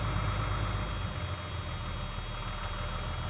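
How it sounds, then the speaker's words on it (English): An abandoned RV's engine idles on its own, a steady, loud, continuous low rumble close by with no throttle changes and no voices. "We're at idle. She's running on her own."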